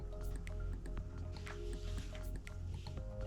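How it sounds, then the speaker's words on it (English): Water drips and runs off an icy abstract painting, producing close, wet squishy drips and small trickles in an irregular patter. "Let's just kind of let that drip over the side."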